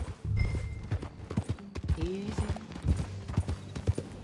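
Horse hooves clip-clop in a steady riding rhythm in the video game Red Dead Redemption 2, close and clear, with a brief spoken word over the hoofbeats and a faint whinny.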